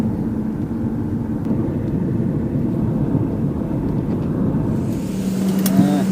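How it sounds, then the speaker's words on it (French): A small passenger airplane's engines heard from inside the cabin during a flight in Myanmar: a constant low droning rumble, steady and fairly loud throughout, with a faint tone near the end. "Et voilà, nous sommes dans un petit avion."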